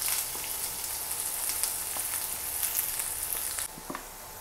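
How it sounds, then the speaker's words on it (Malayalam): Finely chopped onions dropped into hot oil, a soft hissing sizzle with light crackles and occasional faint utensil taps, fairly quiet and close, with no voices. "നമ്മളെ ചൂടായ എണ്ണയിലേക്ക് നമുക്ക് ആദ്യം നമ്മുടെ ചെറുതായിട്ട് കട്ട് ചെയ്ത് വെച്ചിരിക്കുന്ന ഉള്ളി ഇട്ട്"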